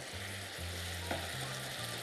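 Garlic frying in hot oil in a home kitchen, a soft steady sizzle running throughout with a low hum beneath and one brief stir clink, no voices.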